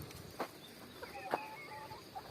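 Chickens cluck softly and peck nearby while eating, with a few quiet bursts of clucking over a low background.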